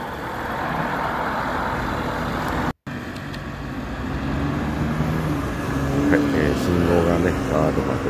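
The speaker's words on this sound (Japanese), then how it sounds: "車ビュンビュン通ってますよ。" Heavy traffic streams along a busy main road. Cars and trucks rush past up close in a continuous roar with a brief dropout, and someone talks over it.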